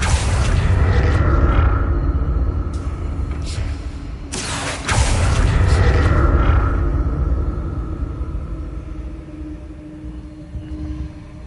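The Confringo fire-blast spell in Hogwarts Legacy sets off a loud, deep, rumbling explosion, with a second sharp boom a few seconds later and a long low roar that slowly fades.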